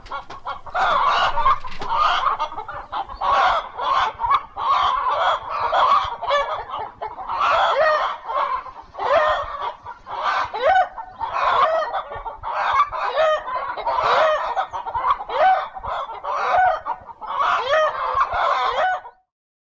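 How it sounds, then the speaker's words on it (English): A flock of chickens clucks loudly and close by, with rapid overlapping bursts that keep up without pause. No voices are heard. "Oh, chickens!"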